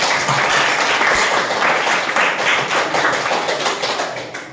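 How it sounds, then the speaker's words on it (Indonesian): A classroom audience at a coding and artificial intelligence teaching simulation gives a round of applause, many hands clapping in a dense, steady wash that holds for several seconds and then slowly fades, with no talk over it. "kita berikan tepuk tangan"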